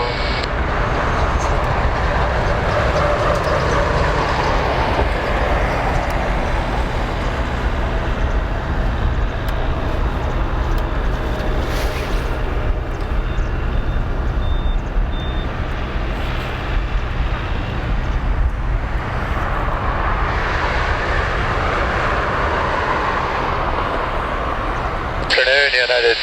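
China Airlines Boeing 777-36N(ER) taking off from Narita, a loud, steady jet engine roar with broadband rumble that holds for the whole stretch, heard from nearby.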